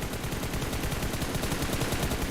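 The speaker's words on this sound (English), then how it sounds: "Zeno now coming under a bit of fire here as the players from 4KT start sending several nades across" Rapid automatic gunfire bursts from a multiplayer shooter game during a competitive esports match, loud and continuous with dense repeated shots over about two seconds.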